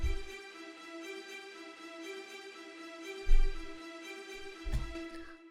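Layered virtual violin parts play the Avengers Endgame theme in octaves, a quiet sustained string texture with steady held tones and soft low thumps beneath, no voices.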